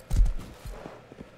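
A horse in the survival video game Rust walks with a few hollow hoof clip-clops, loud and close at first, then softer and more spaced out, with no talk over them.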